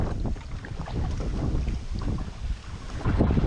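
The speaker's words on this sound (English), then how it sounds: "the wind is just too strong and it's a bit too much of a risk to go against the chop" Strong wind buffets a canoe on the River Yare, giving a steady, rough gusting roar with water chop against the hull and no voices.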